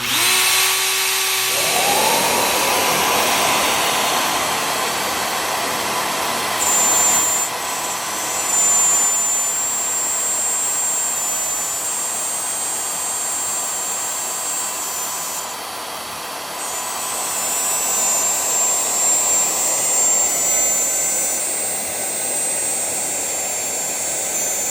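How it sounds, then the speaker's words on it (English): A Shaper Origin handheld CNC router runs loud and steady with a dust collector roaring alongside, a high whine rising as the bit spins up and holding through the cut with slight swells in level. "I need to turn the router on"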